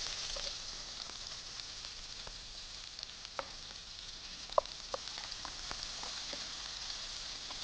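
Onion and urad dal frying in oil, giving a soft, steady sizzle with scattered small pops and crackles, faint and close, with no talking.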